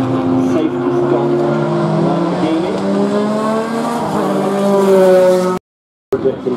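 A Dodge Viper race car circles the track, its engine droning loudly and steadily with rising and falling pitch as it passes, then cuts off abruptly before a brief return.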